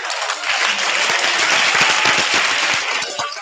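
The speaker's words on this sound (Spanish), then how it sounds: "Un aplauso para ti." Enthusiastic applause from a school audience at a student talent show, a thick continuous wall of many hands clapping, loud and sustained, with individual claps standing out near the middle and no talking over it.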